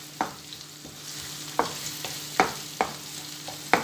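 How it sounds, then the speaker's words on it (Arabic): Onions frying in a pan while a spoon stirs them, a soft steady sizzle with a few sharp scrapes and taps against the metal, close and alone. "غنبدا نحرك هذوك البصيله هكا حتى كطيح من حتى كتنزل مزيان"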